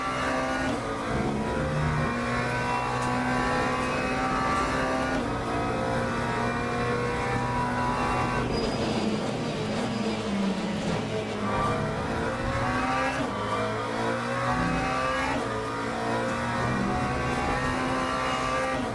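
Hypercar and GT3 race car engines in a VR sim racing game, a sustained loud droning roar with rising and falling revs through gear changes and brief tire squeal, continuous with no talk.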